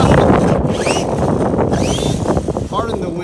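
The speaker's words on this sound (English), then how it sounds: "Pardon the wind. It's kind of windy over here." Strong outdoor wind in the San Francisco Bay Area buffets the microphone throughout with a steady low rumble and gusty roar.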